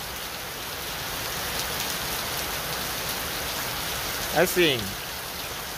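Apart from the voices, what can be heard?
heavy rain falling on a stadium construction site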